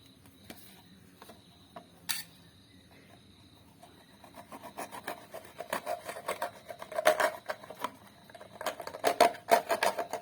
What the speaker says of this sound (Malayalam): ഇനി ഫ്രണ്ട് സൈഡിലൂടെ കട്ട് ചെയ്തിട്ട് കാണിച്ചു തരാം.